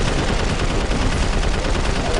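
Rapid gunfire from the Prototype 2 video game, a dense continuous burst of shots filling the moment with little space between them.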